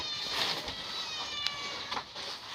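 A cat meows a few times at moderate distance over steady background hiss, with faint room noise between the calls.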